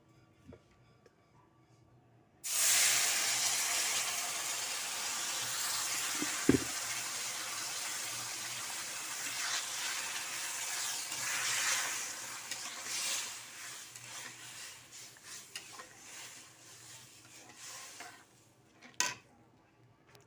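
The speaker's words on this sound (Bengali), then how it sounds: "এবার আমি জলটা দিয়ে দেব।" Water poured into hot semolina halwa in a pan sets off a sudden loud, steady hiss and bubbling that fades slowly, with a few clinks of a spoon against the pan.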